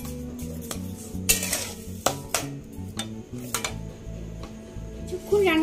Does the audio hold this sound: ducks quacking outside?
no